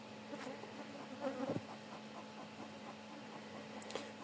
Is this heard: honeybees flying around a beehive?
yes